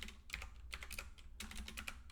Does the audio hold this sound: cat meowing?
no